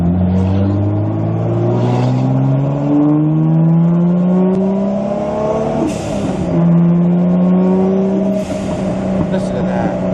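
A Toyota Supra running about 6 pounds of boost downshifts from inside the car, with engine tones rising and dropping between gears and repeated hissing blow-off valve bursts; a voice talks over it.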